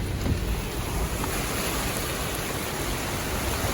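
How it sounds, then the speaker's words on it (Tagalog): Floodwater rushing across Gil Puyat Avenue in Metro Manila after a heavy nighttime downpour, a steady broadband roar of flowing water and rain with wind buffeting the microphone throughout. "Gil Puyat Avenue is flooded right now because of this heavy rains tonight in Metro Manila."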